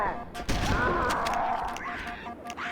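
Shotgun blasts in Halo: Combat Evolved come as a few sharp booming shots amid chaotic game combat noise, at moderate level, and a voice talks over them.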